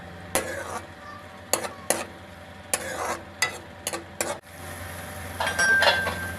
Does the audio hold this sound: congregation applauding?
no